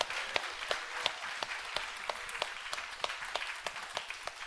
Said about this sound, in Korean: 세 번째 감사 박수 한번 올려드리겠습니다